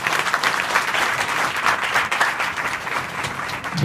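An audience of schoolgirls at a girls' higher secondary school claps loudly during an adolescent education session, a burst of dense, energetic applause lasting a few seconds in a room.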